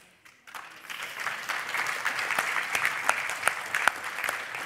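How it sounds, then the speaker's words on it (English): Sustained audience applause fills a university auditorium at a spring graduation ceremony as graduates file out, rising after a quiet start into steady, dense clapping with a few sharper claps standing out near the front. "I hope you will join me in giving them a final flourish of applause"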